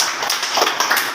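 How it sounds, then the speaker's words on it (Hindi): Students in a school classroom clap together in a burst of many overlapping claps, steady and fairly loud, for about a second. "चलो ताली बजाओ मेरे।"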